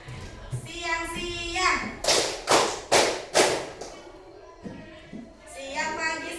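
Children in a classroom concentration game clap in unison, several sharp rhythmic claps in a row, with a teacher's voice speaking before and after.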